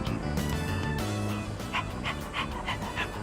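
Dog barking with short yips and whimpers from the video game Persona 3 Reload, several quick bursts in the second half over steady game music.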